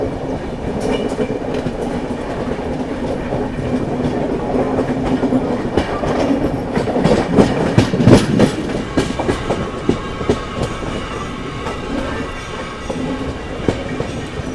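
The Chennai Duronto Express rushes past close by near Gwalior station, a loud continuous rumble with rhythmic clickety-clack of wheels and some metallic squeal, no voices.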